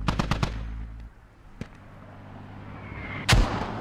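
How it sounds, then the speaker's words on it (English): In the Squad video game, mortar shells land in a quick cluster of sharp, booming impacts, followed by a lone distant thud and one more loud, close blast near the end. "we're hearing some mortars coming in now"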